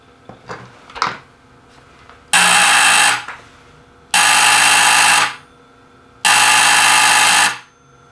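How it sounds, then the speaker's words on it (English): An old Buzz-A-Bell doorbell buzzer sounds three times, each a loud harsh buzz of just over a second with gaps between, after a few faint clicks and handling noises. "we have now wired up the button to the buzzer"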